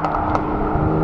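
Audi RS6 estates pulling away from a Silverstone track day, a loud, continuous engine roar close by with a low exhaust rumble and no voices.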